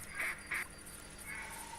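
Ducks quacking in The Hunter hunting video game, two distinct quacks close together early on, then a fainter drawn-out call, over a quiet outdoor ambience.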